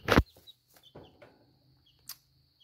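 Young chicks about a week and a half old in a brooder give a few soft, short peeps and chirps, sparse and close, with quiet gaps between them.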